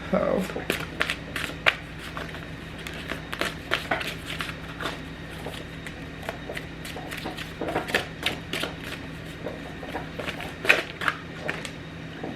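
Tarot cards shuffled by hand during a reading, a dense run of crisp riffling flicks and soft slaps repeating close by throughout.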